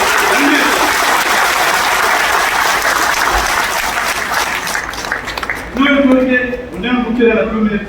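An audience at a Tamil teachers' association state function claps strongly for the state's chief minister, a broad wash of applause that fades toward the end as a voice begins speaking over it.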